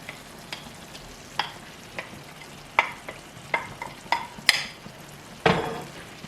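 Meatballs and peppers sizzle softly in a pan, with a spoon stirring and scraping through them in a string of separate strokes and a few clear clinks against the pan.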